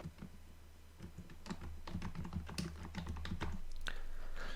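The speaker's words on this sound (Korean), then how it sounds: "키보드에 ESC 키를 누르면 됩니다" Computer keyboard keys are tapped in a quiet room, giving a run of light, crisp clicks at an uneven pace while editing a spreadsheet, including a press of the ESC key.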